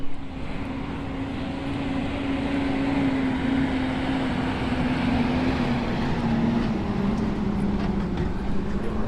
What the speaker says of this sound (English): And here is the sound of a garbage truck.